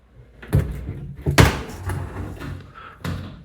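A door in an abandoned underground bunker mansion bangs and thuds shut several times, with loud, close, hollow knocks spread over a few seconds.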